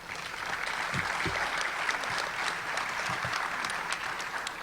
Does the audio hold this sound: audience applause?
yes